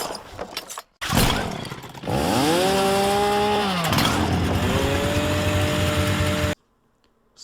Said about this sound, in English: Suddenly, the studio was filled with the harsh sound of a revving chainsaw.